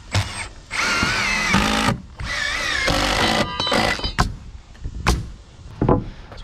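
A power drill drives screws to take out a cup during window work in a house, heard as several loud whirring bursts with short gaps, then sharp knocks and clicks toward the end.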